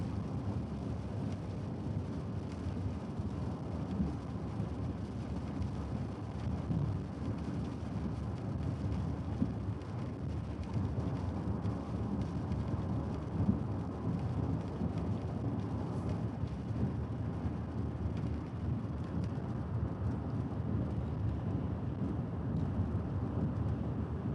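Steady, unbroken rain hiss fills the scene during a local thunderstorm, with faint low rumbles of distant thunder underneath and no voices.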